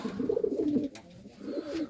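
Pigeons coo in low, rolling phrases from a domestic loft flock, one bout and then a second after a brief pause, fairly close and clear with no talk.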